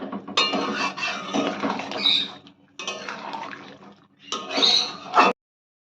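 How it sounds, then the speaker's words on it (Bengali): A spoon scrapes and clinks against a metal pot while chicken is stirred together with ground cashew paste for a chicken korma, in three close, steady bursts of mixing separated by short pauses. "ভালো করে মিশিয়ে নিতে হবে মাংসের সঙ্গে কাজু বাদাম বাটা।"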